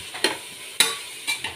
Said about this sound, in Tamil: பொன்னிறமாக வதக்கிக்கிறோம்.